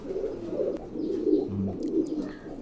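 Imported Pakistani pigeons, red-eyed fancy breeds, coo in low repeated throaty phrases close by, with faint chirps and other birds in the background and no talking.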